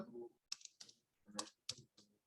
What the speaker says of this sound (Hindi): तो चलिए यहां पर मैं क्लिक करता हूं